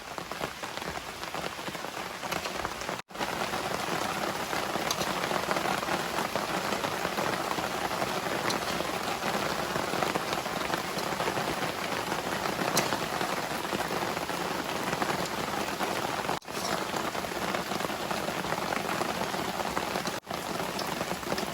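Heavy rain pours steadily on a home by a saltwater canal, a loud, continuous hiss of drops on surfaces with no break, close and dense throughout.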